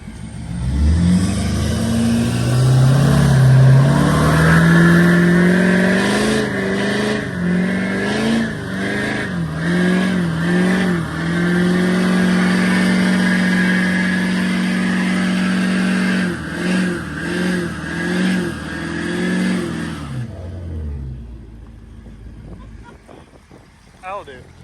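A car does a burnout with its engine revving hard for about twenty seconds, wavering pitch rising and falling in repeated surges, loud and close, then cutting off abruptly; voices are faintly present.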